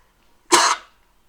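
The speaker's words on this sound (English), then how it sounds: "Excuse me, I had to sneeze." A single short, sharp burst of breath from a person, a sneeze lasting under half a second, loud and close, then silence.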